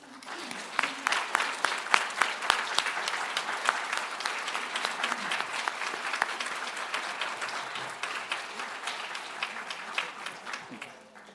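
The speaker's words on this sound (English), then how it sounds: "Please join me in giving this team a well-deserved round of applause." A crowd at a university faculty opening meeting gives a team sustained, even applause, many hands clapping densely and evenly throughout with a few louder individual claps standing out.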